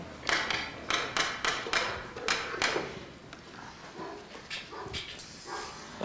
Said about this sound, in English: Well, the noise you hear is Mr. Hill's Alsatian dog, so I don't think we'll be staying too long.